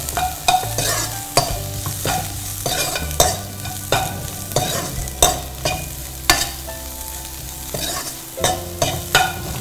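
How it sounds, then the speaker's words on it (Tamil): Onions frying in a pan for sambar, a steady sizzle with repeated stirring scrapes of a spoon in a regular rhythm, close and fairly loud, with music underneath and no talking. "பிறகு வெங்காயம் கொஞ்சம் ப்ரௌனிஷ் ஆகணும்."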